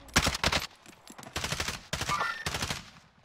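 Gunfire in the video game Warzone, with several rapid bursts of automatic fire in close succession, fairly loud and separated by brief pauses.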